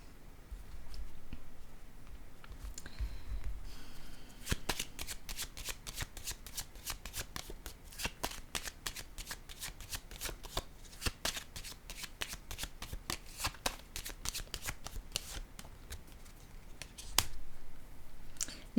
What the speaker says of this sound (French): Je vais piger une autre carte sur elle.